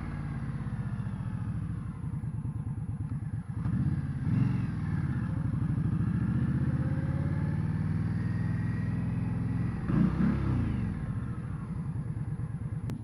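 A 2015 Indian Scout motorcycle engine running while riding, a steady low rumble close by with gentle swells as the throttle changes, no talk over it.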